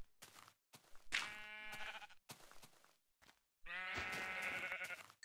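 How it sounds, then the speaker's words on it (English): Sheep bleat in the video game Minecraft, several wavering calls in separate bursts, two of them louder and longer, with short silent gaps between them. "I'll kill these sheep for beds so I can get the wool."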